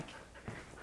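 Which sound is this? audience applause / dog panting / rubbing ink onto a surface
dog panting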